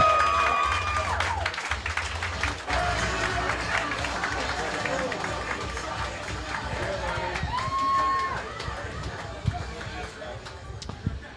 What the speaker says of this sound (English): clap it up for the international superstar, Zach Amico.